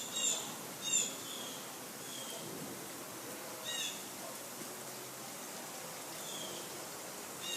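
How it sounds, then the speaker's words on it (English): Steady light rain falling from a clear sky patters as a soft, even hiss, with a few faint bird calls chirping over it in the distance. "And it just started raining in a perfectly clear blue sky."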